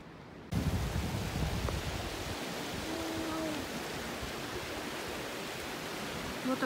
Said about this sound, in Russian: Вот оттуда водопад, течет вот сюда, и вот так вот дальше.